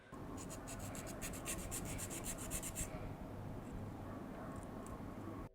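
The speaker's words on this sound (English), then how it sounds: "I had to sand some parts of the stabilizers down" Plastic keyboard stabilizer parts are sanded down by hand, a soft gritty rubbing with quick rhythmic strokes at first that settles into a steadier, quieter scrape, close and alone.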